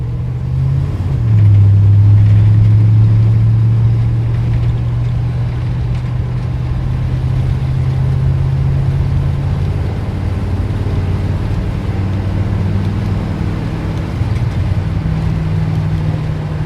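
A 1978 Ford F100 truck driving and accelerating, its engine rumbling loud and close as the pitch climbs then drops with a gear change, continuing as a steady droning run.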